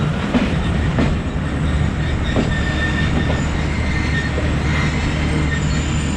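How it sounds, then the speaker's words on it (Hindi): The Pakistan Express rolls toward Abdul Hakim station, a loud steady rumble of moving railcars heard from inside, with faint rhythmic wheel clatter and a thin squeal over the constant roar. "हमारा पहला स्टॉप है अब्दुल हकीम और ट्रेन इस वक्त अब्दुल हकीम के लिए अप्रोच बना रही है"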